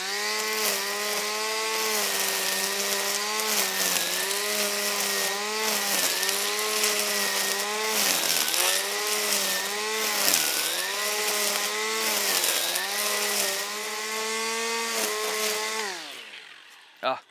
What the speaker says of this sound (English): We'll give it a bump feed and then we'll rip into some heavy grass.